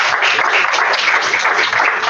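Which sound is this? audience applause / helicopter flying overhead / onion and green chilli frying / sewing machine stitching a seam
audience applause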